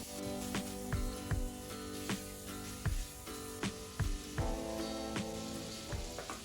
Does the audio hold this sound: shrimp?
yes